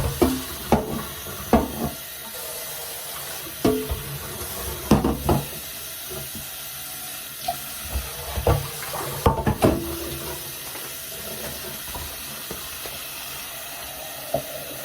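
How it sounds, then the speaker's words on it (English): Water from a kitchen tap runs in short bursts into a pan while eggs are prepared, with clattering knocks of the pan against the sink between splashes. The sound is close and there is no talking. "Okay, here's a pan. We're gonna put some water in here."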